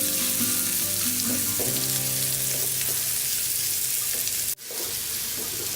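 Bitter gourd (karela) slices frying in oil in an open pan on low heat, a steady close sizzle with scraping stirs and a sharp clatter near the end.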